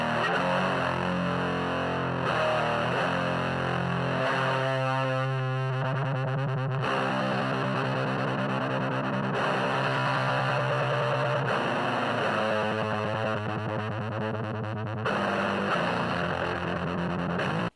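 An electric guitar plays through an Orange amp miked with an SM57, loud and heavily distorted with effects. Sustained chords and rhythmic choppy passages are broken by brief pauses, and no voices are heard.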